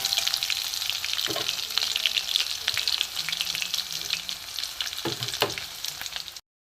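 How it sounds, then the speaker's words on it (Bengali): Garlic, black cumin and green chilies frying in hot mustard oil give a steady, loud sizzle, with a few soft stirring knocks partway through. "রসুন, কালো জিরে আর কাঁচা লঙ্কাটা একটু ভাজা হোক।"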